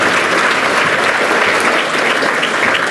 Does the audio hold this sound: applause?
yes